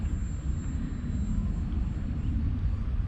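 FMS Fox 800mm RC glider on a 3S 350mAh LiPo flying at full throttle outdoors: a steady, fairly loud motor and propeller drone with airy rumble, continuous for the whole stretch and no talking.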